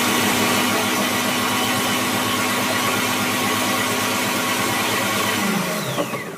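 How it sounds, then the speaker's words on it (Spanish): Mambo kitchen robot blends a three-chocolate cake mixture with cookies on turbo: a loud, steady high-speed motor whine that holds constant, then begins winding down at the very end. "Le volvemos a dar otro turbo."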